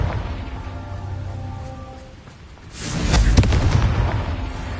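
A Confringo fire spell from Hogwarts Legacy erupts in a loud blast about halfway through, then rumbles on in a dense, sustained burst of noise, with softer game ambience before it.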